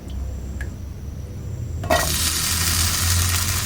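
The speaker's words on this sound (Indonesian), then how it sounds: "Niki antarane nggih enten lombok, tomat, gambang bawang tak goreng." Chili, tomato and garlic hit hot oil partway through with a sudden loud sizzle, then keep frying in a steady close crackle after a quieter lead-in.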